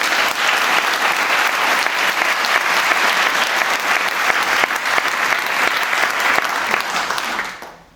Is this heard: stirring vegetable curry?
no